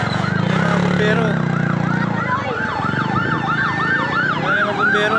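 A fire truck siren wails in repeating rising-and-falling cycles over heavy engine rumble at a house fire near a hospital in Tondo, Manila, loud and close, with faint voices underneath.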